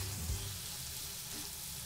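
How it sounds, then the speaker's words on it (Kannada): Turmeric, chilli and coriander powders stirred into a frying masala in a pan for Kerala-style dry fish curry; a steady close sizzle with a brief scrape of the spoon near the start, no talk. "ಈಗ ಚೆನ್ನಾಗಿ ಮಿಕ್ಸ್ ಮಾಡಿ."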